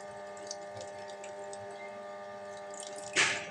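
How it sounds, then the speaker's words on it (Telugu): Tamarind juice poured into a pot of drumstick sambar, heard as a soft wash of liquid over a steady background hum, ending in a brief louder splash near the close. "లోపల మనం ఇప్పుడు చింతపండు రసం వేసేసుకుంటున్నాను"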